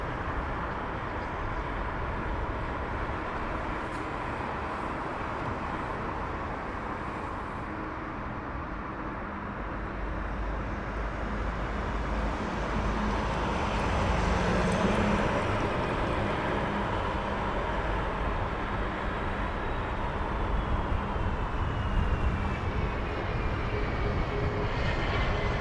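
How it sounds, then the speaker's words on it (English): A fixed-wing aircraft arriving at Heathrow Airport rumbles with a steady, broad jet engine roar that swells gradually as it draws nearer, heard alone without talk. "We're going to get the next aircraft inbound."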